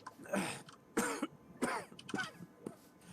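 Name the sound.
people coughing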